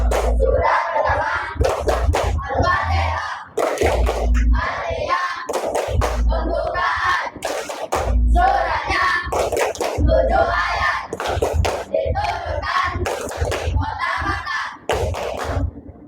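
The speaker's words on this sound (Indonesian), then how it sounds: "Tepuk surah Al-Fatihah." Children chant and clap in rhythm during a classroom ice-breaker, a Surah Al-Fatihah clapping routine, with loud repeated hand claps punctuating their group voices throughout.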